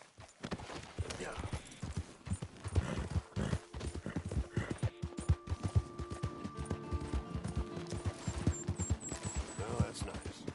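Horse hooves gallop in rapid, steady clip-clop across a Red Dead Redemption 2 game world, loud and close, with a rider talking and urging the horse over game music.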